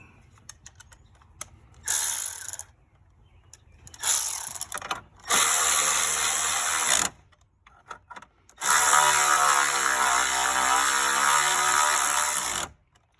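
A ratchet tightens a 10 mm bolt on a Chevy Cruze thermostat housing bracket in several bursts of rapid clicking, each longer than the last, with quiet pauses between them.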